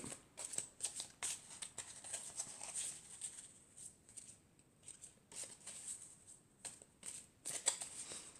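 Elf oracle cards are shuffled by hand in repeated soft riffles and flicks, a crisp papery patter coming in irregular bursts, close and fairly quiet.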